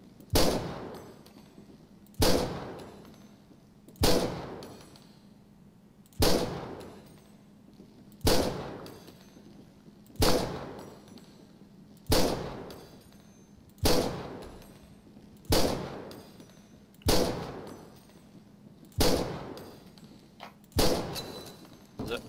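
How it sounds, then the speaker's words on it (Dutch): Twelve loud gunshots from a police training session in Grand Theft Auto V, fired one at a time about two seconds apart to empty a magazine, each with a sharp crack and a short echoing decay. "Mag je magazijn leeg schieten."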